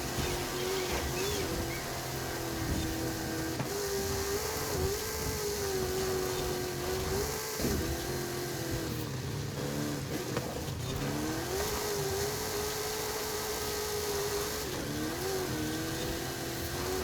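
A car in the racing game Forza Horizon 5 drives and takes corners, its engine holding a steady mid-pitched drone that rises and dips as it revs through turns, continuous and fairly loud throughout.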